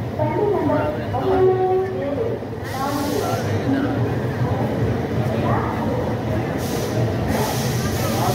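At Visakhapatnam railway station, a stopped train hums in a low, steady rumble beneath people talking nearby, with hissing bursts from the carriages.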